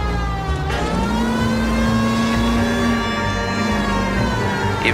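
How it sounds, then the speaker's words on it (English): Police siren wailing in L.A. Noire, a steady rising and falling electronic tone held over the loud, continuous engine drone of a driving 1940s police car, with no talk. "the siren makes everything better"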